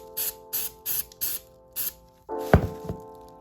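Repair color spray, SS 2.5, is sprayed from a can onto a vinyl ball in five short, evenly spaced hissing bursts, followed by a clunk and rattle of handling.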